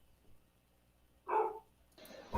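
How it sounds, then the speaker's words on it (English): Dogs bark in the background of a quiet room, with two separate bursts of barking at a moderate distance, with no talk over them. "you hear my dogs?"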